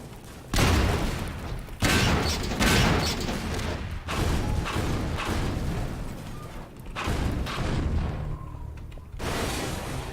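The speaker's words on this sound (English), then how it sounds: "that's what those explosive barrels are for" Repeated heavy booms and blasts of explosive barrels exploding in Half-Life 2, bursts of explosions one after another with short gaps, loud and rumbling.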